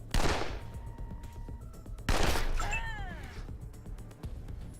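Two heavy gunshots ring out in the turn-based game Wasteland 2, about two seconds apart. Each is a sharp, loud crack that fades into a short ringing tail, with quieter ambience between.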